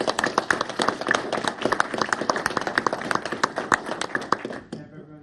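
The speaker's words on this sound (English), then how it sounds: "can I get another round of applause for them?" A room of people at a city Board of Aldermen meeting claps for Arbor Day contest winners, a brisk, fairly loud round of many hands that stops abruptly near the end.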